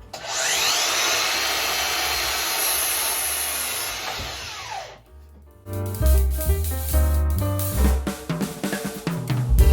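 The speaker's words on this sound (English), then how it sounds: "We'll cut the backsplash first." Wood is cut for a kitchen backsplash in a converted school bus, with a steady loud rasp for about five seconds, then a brief pause and a burst of busier, clattering cutting noise.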